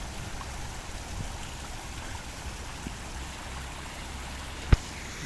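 Faint, steady trickle of water flowing in a street drain in Edogawa, Tokyo, running continuously, with one sharp click near the end.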